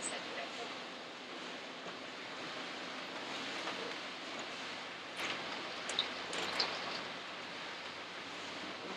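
Light rain patters steadily on a camper van during a storm, a soft even hiss with a few louder drips, quiet and close.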